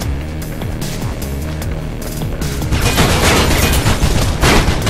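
Enemy gunfire from a machine gun in the Mirror's Edge video game during a mall shootout, a dense, steady barrage of loud shots that grows heavier and more chaotic toward the end, with booming impacts mixed in.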